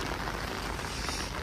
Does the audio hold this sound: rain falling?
yes